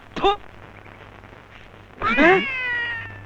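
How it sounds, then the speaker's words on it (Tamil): A cat meows twice nearby: a short sharp meow first, then after a pause a louder, longer, drawn-out wail that fades slowly. "பூனை குறுக்கால குதிக்குது."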